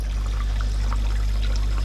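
Water trickling and dripping into a fish fry breeding rack in an aquarium setup, a steady close trickle with faint occasional drips over a constant low hum, no talking.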